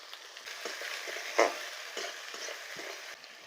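Capsicum and onions frying in a pan while being stirred, a steady soft sizzle with light scraping strokes and one sharper clatter near the middle.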